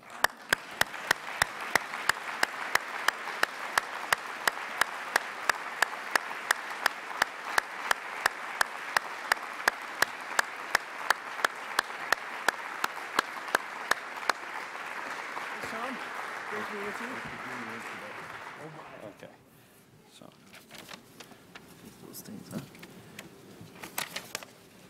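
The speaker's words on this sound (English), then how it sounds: "You're also allowed to clap." Audience applause at a Canada Growth Summit event welcoming Governor General David Johnston, a dense patter of many hands lasting about fifteen seconds before fading into a quieter room with faint murmuring.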